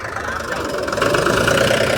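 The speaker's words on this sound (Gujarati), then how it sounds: "વીડિયામાં એ ટ્રેક્ટરનો અવાજ આવશે" A farm tractor's engine runs steadily at an outdoor farm at night, a continuous close mechanical chug that grows slightly louder toward the end, with no talking.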